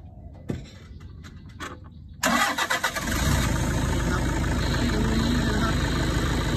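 A 2007 Toyota Vigo pickup with a 2.5 engine cranks briefly after a few faint clicks, catches, and settles into a loud, steady diesel idle close by.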